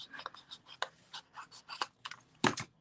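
Scissors trim small paper scraps for a handmade card: a quiet series of crisp, irregular snips and rustles, close and faint.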